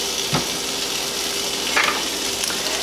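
Black pepper being stirred into white gravy in a pan: a soft, steady scraping and sizzling texture with a couple of faint utensil clicks, continuous and close, with no talking.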